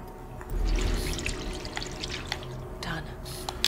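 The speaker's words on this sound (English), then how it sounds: "I gotta pour the gasoline in there." Gasoline is poured into a container in The Medium on Xbox Series X, a close, steady liquid stream that trickles and drips as it tapers off, with faint background ambience.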